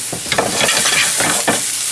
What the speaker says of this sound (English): So we just want to give them just a quick saute.